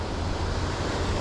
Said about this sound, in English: The waves are definitely a little bigger this time.